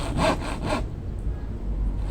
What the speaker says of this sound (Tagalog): nagalagari po tayo dyan